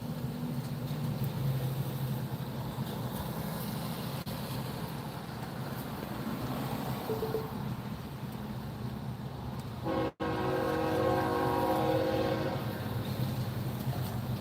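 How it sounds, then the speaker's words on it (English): A train horn sounds in the distance during a storm in southern Indiana, with steady tones standing out over rumbling wind and road noise, stronger after a brief dropout near the end. "Heard that train a coming up around the bend."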